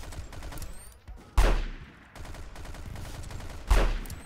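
Two sniper rifle gunshots from the video game Battlefield 2142 during infantry combat on a Conquest map, each a sharp, loud blast with a decaying tail, set apart by about two seconds of busy battlefield noise.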